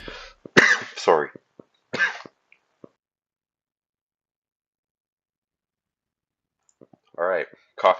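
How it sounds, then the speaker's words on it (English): A person coughs several times in quick bursts close to the mic, then a long silence, followed by a couple more coughs near the end. "Alright, coughing break."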